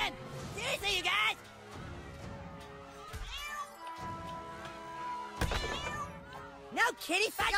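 Several cartoon cat meows and a drawn-out yowl come from the South Park video game, mixed with thuds and whacks from the fight, while a player talks over them.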